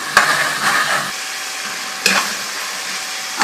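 Kabab masala frying in a pan, with a close, steady sizzle and two sharp clacks of a spoon striking the pan as it is stirred; no one speaks.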